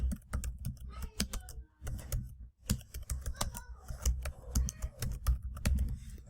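Typing on a computer keyboard while entering a worksheet title in Office 2016, quiet, close key clicks in quick irregular bursts with short pauses between words.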